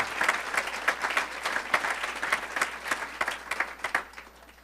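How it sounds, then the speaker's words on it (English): Audience applause at an awards breakfast, clapping steady and fairly close for several seconds, individual claps distinct within the sustained patter, no talk over it. "Can we have one more round of applause"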